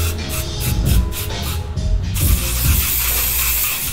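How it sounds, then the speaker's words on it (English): A run of quick spritzes from a spray bottle in a barbershop, then a steadier, longer hiss of spraying, fairly close with some low background rumble. "Just some spray."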